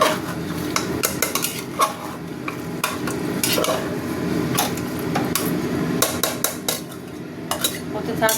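Food being sautéed with salt in a pan, stirred steadily with a metal utensil; frequent sharp scrapes and clinks ride over a continuous low sizzle, close and moderately loud with no talking.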